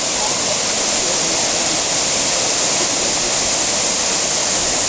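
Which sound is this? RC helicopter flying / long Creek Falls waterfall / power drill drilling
long Creek Falls waterfall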